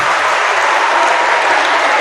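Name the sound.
applause for a volunteer at a school assembly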